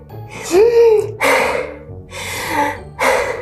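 Deep breaths drawn in and let out several times, close by, with a voiced gasp at the start and breathy sighs after.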